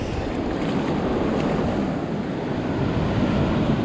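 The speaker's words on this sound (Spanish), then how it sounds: "Esas olas que revientan acá cerquita de la piedra son las más peligrosas porque ¡buah!, golpea con fuerza" Ocean waves break close by against rocks at sea, a loud continuous roar of surf and wash with wind buffeting, no voices.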